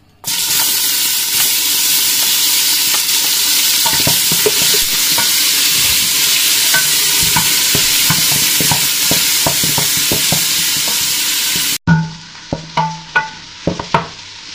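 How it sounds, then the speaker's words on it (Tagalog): Lots of garlic sautés in hot oil for a beef dish, a loud, constant hissing sizzle with stirring knocks; near the end the roar cuts off, leaving a few separate sharp spits and taps. "Gisa na natin. Painit ko na yung ating mantika. Daming bawang."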